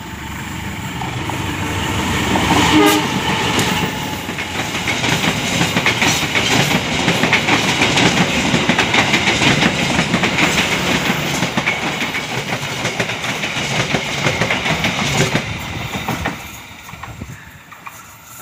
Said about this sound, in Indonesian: Kuto Jaya Selatan sudah melintas langsung stasiun Cicalengka